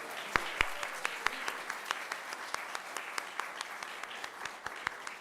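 Parents in the audience at a school board meeting receive a round of applause, a moderate, fairly distant patter of clapping with a few sharp individual claps standing out, continuing steadily throughout.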